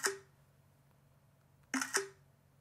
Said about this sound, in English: the camera shutter does sound a little bit different too